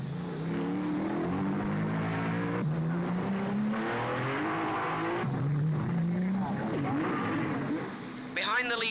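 Lancia and Maserati racing cars at the 1955 Monaco Grand Prix, a loud, continuous engine roar that shifts in pitch as the cars pass and change gear, with a commentator talking over it.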